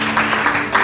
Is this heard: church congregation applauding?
yes